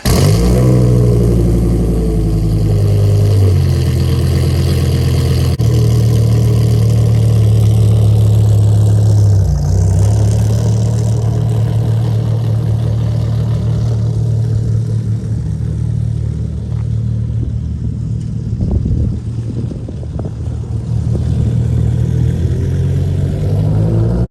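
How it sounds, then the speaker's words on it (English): A 1996 Dodge Viper RT/10 engine rumbles and revs on the move, its deep note rising and settling in steady, loud surges with no talk over it. "Driving a 1996 Dodge Viper RT10."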